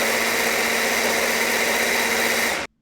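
A blender spins crepe batter made from two ingredients, giving a steady, loud motor whir that holds constant for a few seconds and then stops abruptly.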